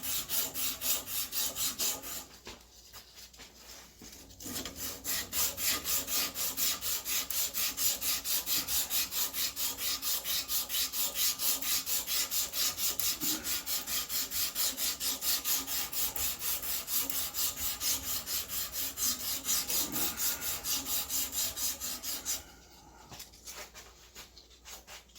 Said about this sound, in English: you can see how quickly the emery cloth cuts through that paint